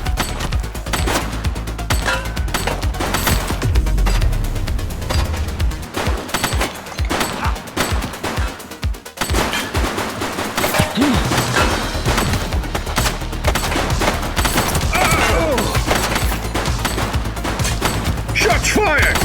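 Repeated gunfire and bursts of automatic fire in The Precinct police video game, loud and dense throughout with shots layered over continuous game noise and a voice speaking at times.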